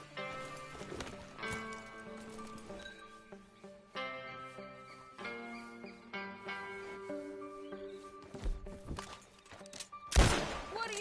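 Horse hooves beat in a loose galloping rhythm during a ride in Red Dead Redemption 2, set under a musical score, with a sudden loud crack near the end and a faint whinny.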